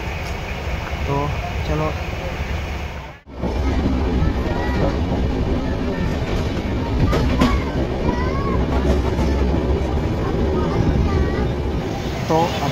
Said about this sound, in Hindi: ट्रेन खुल चुकी है प्रयागराज जंक्शन से